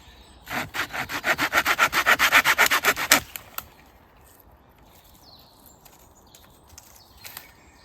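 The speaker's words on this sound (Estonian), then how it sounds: "Teeme siis väikse saagimistesti ka, kus on mõnusalt kuivanud kuuse peal." A Bahco Laplander folding saw cuts through dry spruce wood in a run of about twenty quick, even rasping strokes, close and loud, then stops, leaving quiet outdoor background with faint birdsong.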